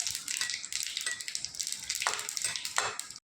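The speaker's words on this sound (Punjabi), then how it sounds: "ਇੱਕ ਚਮਚ ਪਾ ਦਾਂਗੇ ਸਾਬਤ ਜੀਰਾ ਜੀਰੇ ਨੂੰ ਆਪਾਂ ਪਹਿਲਾਂ ਚੰਗੀ ਤਰ੍ਹਾਂ ਭੁੰਨ ਲਾਂਗੇ" Whole cumin seeds roast in hot oil in a pan with a loud, continuous, close crackling sizzle and popping, punctuated by stirring scrapes, then cut off abruptly.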